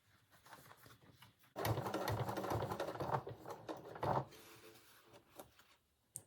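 Sewing machine stitching a jacket with a couple of back stitches, a quick mechanical whirring burst after a quiet start, pausing briefly then running again, close and fairly soft.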